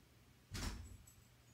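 A door opens in an indoor room as someone arrives, giving a single brief muffled thud and rattle that fades quickly against quiet background.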